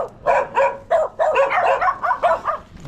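A group of household dogs at a simple countryside home bark and yip in a steady run of close, loud bursts, with a few thinner whining notes mixed between the barks.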